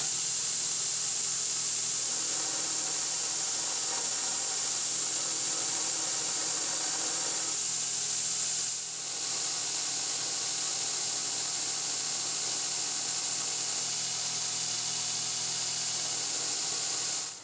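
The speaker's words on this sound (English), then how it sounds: "I'm going to take it over to the belt grinder." Belt grinder grinding down a steel disc brake bracket in a workshop, a loud continuous abrasive hiss with a steady motor whine running the whole time, briefly dipping midway as the part shifts on the belt.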